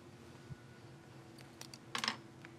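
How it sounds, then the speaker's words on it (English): Typing on a computer keyboard, a few faint scattered clicks followed by a short, denser burst of keystrokes over a quiet background hum. "am I typing that right?"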